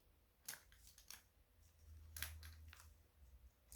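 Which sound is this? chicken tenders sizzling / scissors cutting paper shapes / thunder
scissors cutting paper shapes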